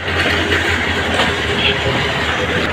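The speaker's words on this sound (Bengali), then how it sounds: "এই যে লোকোমোটিভটি তো এটি এখান থেকে ছুটে গিয়ে এখন তার যে লোকো শেড রয়েছে সেই লোকো শেডে চলে যাবে" A Dhaka Mail locomotive rumbles off from Kamalapur station in Dhaka, wheels clacking rhythmically over the rails in a loud, close, continuous run.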